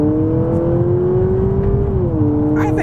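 The engine of a 2023 Honda Accord Hybrid Touring in sport mode accelerates down a back road, a steady close drone whose pitch holds and then drops slightly, loud and continuous with no talk.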